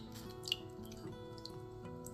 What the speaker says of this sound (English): I just like to place my sponges and stuff in the water